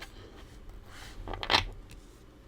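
Soft papery riffling and flicking of a deck of playing cards being handled for a card reading, rising briefly into a quick burst before settling back, quiet and close.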